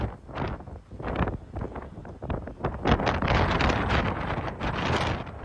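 Strong storm wind from Storm Franklin buffets the seaside boulevard at Vlissingen, blowing sand over passing cars. Steady, loud gusting roars and rumbles against the microphone throughout, with no voices.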